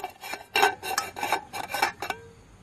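Metal camping cookware being handled: a small pot with folding handles and a folding spork clink and rattle in a series of close, bright metallic knocks and scrapes, with no talking.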